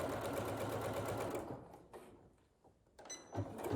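A sewing machine stitches a fabric envelope pillow, running steadily at first, then stopping and restarting in short bursts of stitching with quiet pauses in between.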